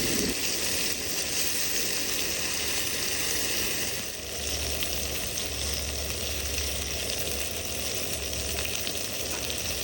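Chicken strips frying in an antique 1916-1935 Piqua Ware "Favorite" "Miami" cast iron pan over an open outdoor flame, a steady close sizzle and crackle with a faint low rumble, continuous for the whole stretch.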